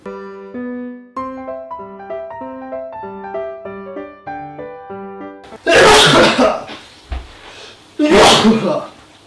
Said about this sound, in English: Gotta make your sneezes manly, kids.